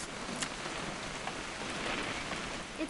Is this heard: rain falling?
yes